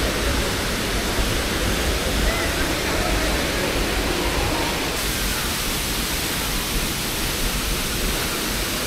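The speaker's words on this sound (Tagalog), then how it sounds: "Ayun na yung falls." Roar of Malabsay Falls on Mt. Isarog in Camarines Sur, a dense, loud, continuous rush of cascading water heard close up with no break throughout.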